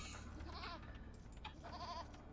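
Sheep in the Age of Empires video game let out two faint, quavering bleats over a low, steady game background, spaced about a second apart.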